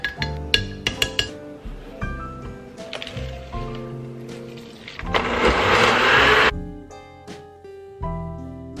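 A blender whirs for about a second and a half, blending a chocolate protein shake of cashew milk, cocoa powder, chocolate protein, banana, spinach and peanut butter, amid background music with clinking and tapping before and after.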